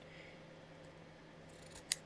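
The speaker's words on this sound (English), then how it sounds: "These are also not my sewing scissors, so it's not wanting to cut in general." A single sharp snip of non-sewing scissors closing on fraying fabric, brief and crisp, against a quiet background hum.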